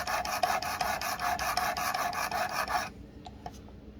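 A knife blade is sharpened on a Work Sharp Precision Adjust sharpener, giving a steady, close, gritty rasp of rapid strokes for about three seconds before stopping abruptly, followed by a few faint clicks.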